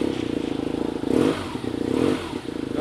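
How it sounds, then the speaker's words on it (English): A BMW R nineT Scrambler's boxer twin idles with a rapid, lumpy pulse, then revs twice with throttle blips that swell and fall back, close and fairly loud, with no talking over it. "at the moment you turn the throttle, the bike kicks to the right"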